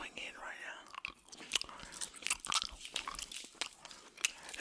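Gum chewed close to the microphone in a whispery ASMR setting: wet, crunchy chews and smacks in an irregular rhythm, loud and intimate, with soft breathy sounds around them.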